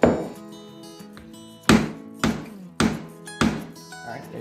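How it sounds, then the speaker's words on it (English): Four sharp hammer strikes on a metal multi-tool ring out close by, spaced at a steady pace after a quieter stretch, each leaving a brief ringing decay. "you're gonna hammer a little harder this time."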